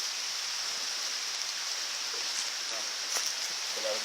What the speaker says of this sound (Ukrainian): Ми попали на пліжку під дощ.